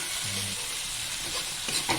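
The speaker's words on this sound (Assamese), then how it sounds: "এইবাৰ এয়া মাছৰ পেটু ভাজি আছে" Steady frying sizzle of fish belly with onion and chilli fills the clip, a continuous hiss from a hot pan with a few brief clinks near the end.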